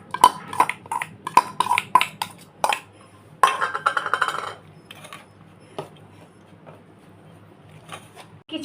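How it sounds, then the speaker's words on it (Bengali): A spoon clinks and scrapes against a bowl as boiled soybeans are mixed with sour yogurt, gram flour and spices. Quick, close metallic taps come in the first few seconds, then fade to softer, quieter stirring. "এইগুলো এবার আমি একসঙ্গে সব মিক্সড করছি।"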